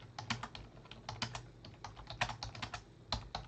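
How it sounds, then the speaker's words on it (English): Close, quiet typing on a computer keyboard, a brisk run of uneven clicks and taps with no voices. "Sorry, I'm just typing Mikey there."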